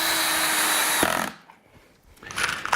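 A power drill whines loudly, driving a pocket hole screw into a wood joint, then stops abruptly; after a short lull the drill starts up again briefly.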